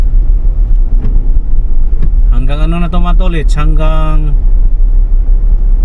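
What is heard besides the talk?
road traffic on Quezon Avenue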